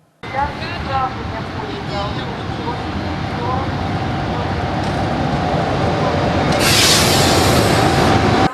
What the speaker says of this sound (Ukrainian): Сюди прибув потяг єдності з полученням Ужгород-Краматорськ.